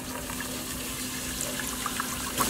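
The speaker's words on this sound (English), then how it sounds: "now what we'll do is we simply put some water in it" Water is squirted from an injection syringe into a pipe for a bike-fuel experiment, giving a steady close hiss and trickle with small splashy bursts toward the end, no talking.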